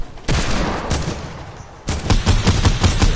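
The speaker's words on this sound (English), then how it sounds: "use a deagle or an SMG to take down structures" Rapid video game gunfire from a Desert Eagle pistol or SMG, loud close bursts of shots broken by a short pause, then a dense rattling volley with no talk over it.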